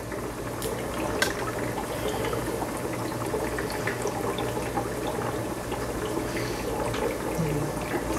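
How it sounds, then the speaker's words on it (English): Siphon tube draining water out of a clownfish aquarium during a water change, a steady close gurgling and trickling flow with faint drips throughout, no talk. "So here we go. I start the siphon."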